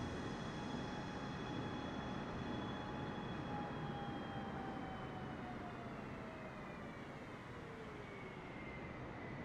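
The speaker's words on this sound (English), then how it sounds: "Now that whistling you're hearing is actually the screaming of everyone else around us" Crashing airliner over New York in Microsoft Flight Simulator, a steady high descending whistle sliding down in pitch over a loud continuous engine and wind roar, sustained throughout.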